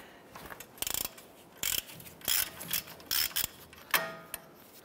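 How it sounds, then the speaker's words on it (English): A ratchet with a 21 mm socket loosens the knuckle nut on a 2011–2018 Ram 1500, giving bursts of rapid metallic clicking between pauses and shifting clunks, close and fairly quiet, with no talking. "Let's go ahead and loosen this nut. 21 millimeter socket"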